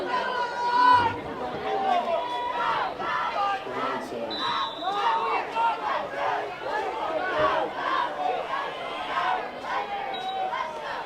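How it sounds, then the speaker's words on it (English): A crowd at a high school football game keeps up a steady roar of cheering and chatter, with shouts rising and falling throughout and a brief buzzer tone near the middle. "Good crowd on hand here tonight."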